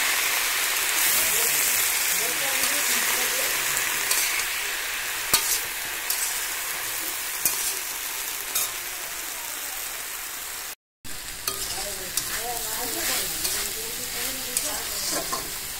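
Mustard and green chilli paste sizzling and frying in a pan over a clay stove, a steady crackling hiss with occasional stirring clinks, briefly cut out near the end before resuming.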